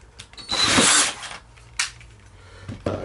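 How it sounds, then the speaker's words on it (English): A power tool cuts 2x4 lumber in a workshop with a loud, close, roughly half-second burst of whining, rasping cutting, then brief mechanical clicks and clunks as the wood is handled. "cutting these 2x4s"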